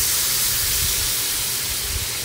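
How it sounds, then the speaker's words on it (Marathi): Hot water pours into a cooking pot for a sandge curry, a continuous close hiss and splash lasting a couple of seconds with no talking. "आता हे आपल्याला गरम पाणी टाकायचं आहे याच्यामध्ये।"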